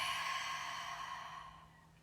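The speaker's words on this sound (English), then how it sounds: "a deep breath in through your nose. Big exhale through your mouth" Someone close by lets out one long, soft exhale through the mouth that fades gradually, with nobody talking over it.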